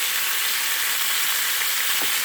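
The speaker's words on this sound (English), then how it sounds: "I'm getting oil splatters everywhere." Chopped onion fries in hot, spattering grease in an RV kitchen during a chopped steak stir fry, a loud, steady, close-up hiss and crackle that fills the whole stretch without pause.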